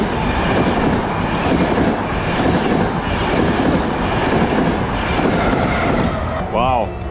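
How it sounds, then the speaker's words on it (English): A train rumbles steadily past close by at a level crossing, wheels clattering on the rails, with a brief squeal near the end. "right when I thought there was no train coming"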